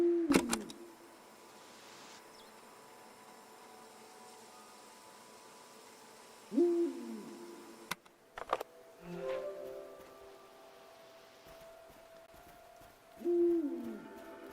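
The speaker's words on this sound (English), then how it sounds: "An owl." An owl hoots in the video game SEASON: A Letter to the Future, three short low calls spaced several seconds apart over a quiet, airy ambient hum, with a few faint clicks between.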